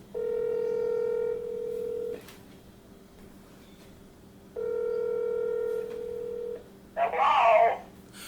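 A home phone placing a call gives two long, steady electronic tones separated by a quiet gap, close and clear, followed by a brief burst of another sound at the end.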